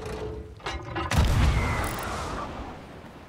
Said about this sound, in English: I'm just doing a cannon shot over to this other area.